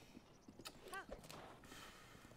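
Epona, a horse in Zelda Breath of the Wild, with soft clip-clopping hooves and a short whinny in the middle, faint and partly under a speaking voice.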